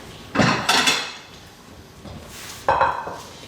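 A clean plate taken out in a home kitchen while cooking Mongolian beef, heard as a few clattering knocks of crockery and wood, with two sharp bursts near the start and another near the end.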